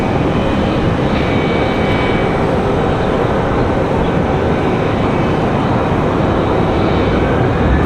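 A Republic Airways regional jet flying as Delta Connection departs toward LaGuardia, its engines giving a steady, loud, broadband roar that holds evenly throughout with no voices over it.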